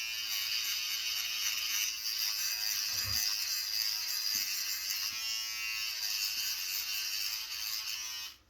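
A small hybrid electric razor buzzes continuously up close as it shaves, a steady high whine with faint scraping and a brief low thump partway through, cutting off at the end.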